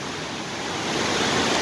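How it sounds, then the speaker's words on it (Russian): A small waterfall in Switzerland rushes with a steady, loud broadband roar close by, growing slightly stronger and with no voices. "Маленький водопад"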